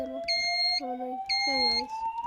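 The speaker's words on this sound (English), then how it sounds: "But you have the fire panel still beeping." A fire alarm panel inside a building sounds a repeating two-tone electronic beep pattern, bright and steady, with a faint underlying tone carrying through.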